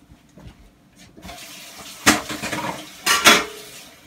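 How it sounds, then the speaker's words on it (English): A kitchen knife rinsed under a hot running tap, with a soft trickle of water growing into two louder gushing bursts and light metallic clinks against the sink. "And then I'm going to clean the knife off."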